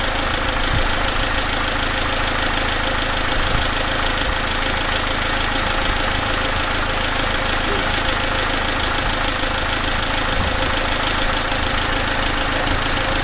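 A cold diesel car engine idles while warming up, a loud, steady, rough drone with a faint repetitive knock running through it from start to finish.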